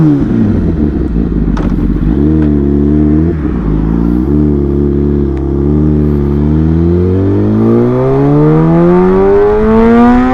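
A Mahindra Thar engine set to medium power revs close and loud, holding a steady throbbing drone before climbing smoothly in pitch as it accelerates, with no talking.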